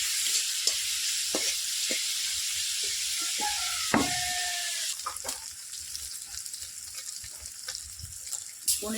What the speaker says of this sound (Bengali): পনিরগুলি ভাজা হয়ে গেছে,